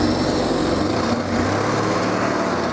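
A drill bores out and enlarges holes for the U-bolts of a B and W Turnoverball underbed gooseneck hitch on a 2022 Ram pickup, giving a loud, steady, close motor whine that runs unbroken with no voices.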